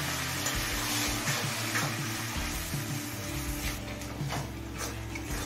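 Water poured into powdered spices with salt and chilli in a hot pan while cooking a beetroot chicken curry, a steady broadband pouring and sizzling wash that runs continuously for several seconds with no talk.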